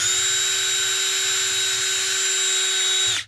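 A power drill runs steadily at high speed for about three seconds, boring a small pilot hole for screws while a homemade adjustable airplane stand is built. The whine is loud and close, then cuts off abruptly.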